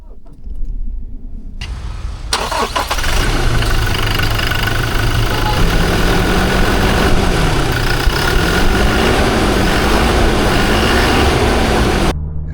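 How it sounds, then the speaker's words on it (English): A Toyota Hilux pickup's engine drones steadily and loudly from inside the cab as it drives on the road in India, with a low rumble and a wavering pitch that rises and falls through the run. "Now let's quickly go for a drive in the Hilux"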